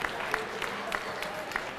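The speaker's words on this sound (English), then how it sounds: "give the teachers a round of applause because we love them for what they do" An audience applauds teachers at Attucks school, a steady wash of clapping filling the room throughout at moderate loudness, with a few sharper individual claps standing out.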